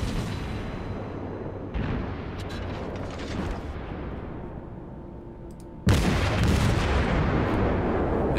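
Incoming naval shell fire in World of Warships rumbles and booms in heavy bursts, with a sudden loud impact near the end over continuous low battle noise.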